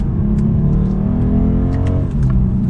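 A 2022 BMW 230i coupe accelerates onto a mountain road, its engine close and loud with a rising rev and a brief dip near the end.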